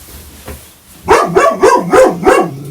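Several loud, close barks in quick succession from dogs in a hall, a rhythmic run of five or so sharp yelps that follow a faint earlier bark, with no talking over them.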